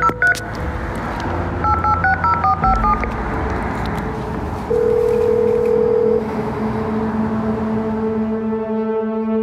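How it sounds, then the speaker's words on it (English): A telephone keypad at a building call box beeps through a quick series of dialing tones as an entry code is punched in, followed by a long steady tone, clear and close with no talking. "and I dial the code."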